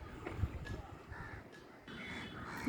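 Crows cawing outdoors in the evening, a few harsh calls spaced across the moment over a steady background hum, moderately near.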